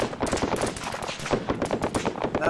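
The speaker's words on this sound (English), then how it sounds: "That gun is still up. That machine gun. Machine gun." Rapid machine gun bursts ring out in a military video game on the island of Tanoa, a dense, continuous rattle of shots lasting a couple of seconds at fairly close range.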